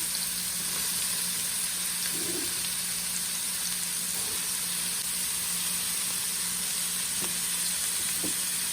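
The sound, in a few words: ginger garlic paste and carrots frying in oil for spring roll filling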